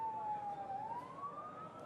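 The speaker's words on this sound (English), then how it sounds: "Here is an ambulance full of children." An ambulance siren wails faintly at a Gaza hospital during conflict, one steady wavering tone rising slowly in pitch over a broad noisy background.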